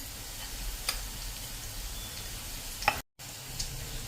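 Okra (bhindi) curry with turmeric and sugar being stirred in a pan gives a steady close sizzle, broken by a couple of sharp spoon clicks against the metal, with no talking.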